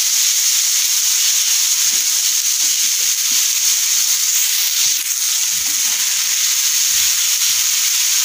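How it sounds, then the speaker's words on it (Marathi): Tomatoes and masala fry in oil for chana masala, a loud, continuous close sizzle with an even hiss throughout and faint stirring scrapes underneath, no voices. "तेलामध्ये आपल्याला हे परतून घ्यायचं आहे।"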